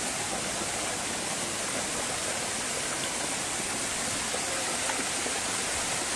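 Floodwater from a huayco mudslide rushing through a neighbourhood, a loud, dense, continuous roar of torrential water with no pauses and no voices.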